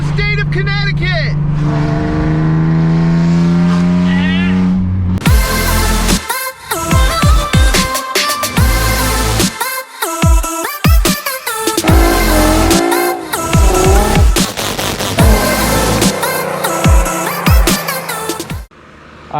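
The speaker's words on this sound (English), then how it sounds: "I think I officially have the worst sounding car in the state of Connecticut." Loud straight-piped exhaust on a Nissan Z revs hard, first a steady rising drone, then a long run of sharp throttle blips, crackles and roaring surges up close, with a voice heard at points.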